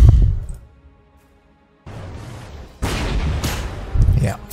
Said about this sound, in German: da fangen wir schon mal an, den runter zu schießen